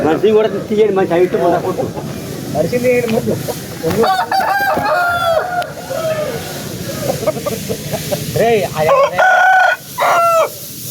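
A rooster crows loudly a few times amid a busy crowd at a country chicken market, with people talking over and around the calls.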